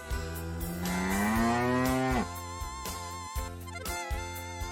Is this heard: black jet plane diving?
no